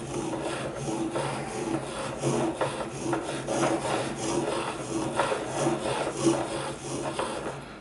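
A knife blade is sharpened on a stone, its edge worked near the stone's edge in repeated rhythmic scraping and rasping strokes, close and moderately quiet, with no talking.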